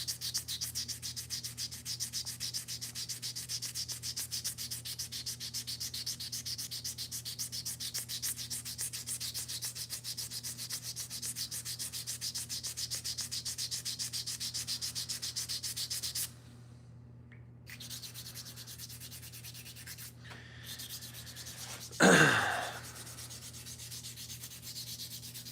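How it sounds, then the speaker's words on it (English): Wooden slingshots sanded by hand with steady, rapid back-and-forth rubbing that continues close and even, pauses briefly, then resumes with a louder scrape near the end. "We're just gonna sand away."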